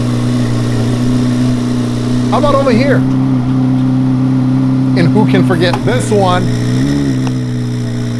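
A stock Chevrolet Corvette Z06 engine runs at a steady, loud low idle through its exhaust, the deep drone continuous throughout while someone talks briefly over it.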